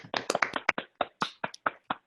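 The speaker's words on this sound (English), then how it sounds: "just give a round of applause to Debbie" Sparse, uneven hand claps from a few participants on a video call for a pitch bootcamp, about ten separate sharp claps over two seconds, close and fairly quiet, with no talking.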